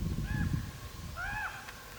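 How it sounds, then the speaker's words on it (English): Two harsh, drawn-out crow or raven calls a second apart, moderately distant, over a low rumble of wind or traffic, near farmland in Ontario. "Are those crows or ravens?"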